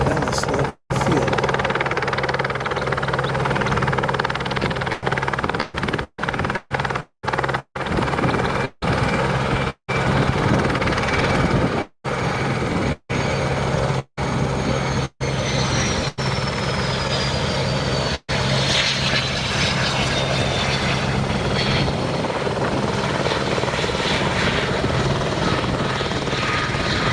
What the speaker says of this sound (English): Curious to see if we can see this helicopter.